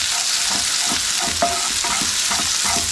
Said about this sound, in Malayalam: ഒന്ന് പതുക്കി മൂപ്പിച്ചെടുക്കാം